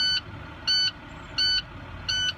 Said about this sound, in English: as you can hear, that is my buzzer